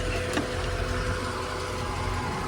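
A 1992 Corvette LT1 on stock exhaust runs at idle with a steady low engine hum and a faint whirring from the air pumps, with one brief clunk early on.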